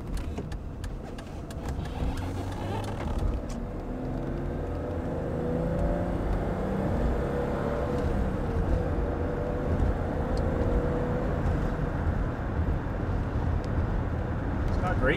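A 1986 BMW E30 drives along with the engine note rising and falling through downshifts, a steady road and cabin rumble throughout, while a person talks over it.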